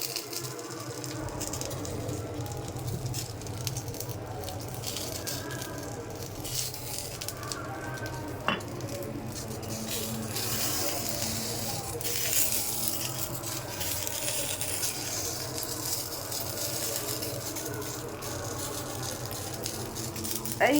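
Fish frying in oil under a lid, with banana leaves used in the cooking, gives a steady crackling sizzle close by that runs throughout, with occasional light rattles and knocks.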